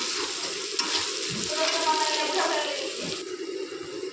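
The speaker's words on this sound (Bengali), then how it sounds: "লাল লাল করে এখন ভেজে নেব পেঁয়াজটা।" Onions frying in a pan for a chicken curry, a close, steady sizzle with occasional stirring scrapes and a faint bit of talk beneath.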